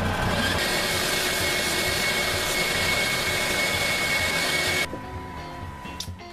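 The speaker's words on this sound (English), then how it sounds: "So now I sand those rounds that I just cut, sand those on the belt sander" A belt sander runs loud and steady on freshly cut wooden rounds, a continuous close whirring roar that cuts off near the end, leaving quieter shop noise.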